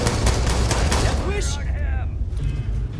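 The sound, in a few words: gunshots in a video game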